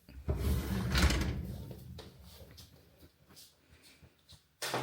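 Wardrobe drawers in a newly assembled dressing unit slide open and shut with a few scraping, bumping rolls and knocks, fairly close and alone, fading to quieter clicks before a final thud.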